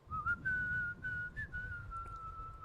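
A person whistles a tune in a backyard, a clear sustained melody up close, with brief breaks between phrases over a low rumbling background.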